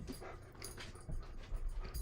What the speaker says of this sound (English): Dogs all up in my face.